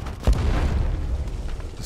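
A grenade blast in the Delta Force shooter game, one sudden deep boom followed by a rumbling, fading tail amid distant battle noise.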